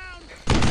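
Gunfire erupts abruptly in the World War II shooter Brothers in Arms: Earned in Blood, a loud burst of shots after a short lead-in of game audio, with a voice beneath.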